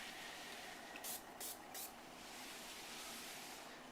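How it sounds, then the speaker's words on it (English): Three quick spritzes of a spray bottle mist granite sealer onto a countertop, faint against a steady background hiss. "all we're going to do is spritz it on"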